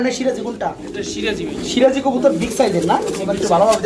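Domestic pigeons kept as a breeding pair for sale coo softly and repeatedly beside their nest with two eggs, nearly continuous low murmuring with someone talking over them.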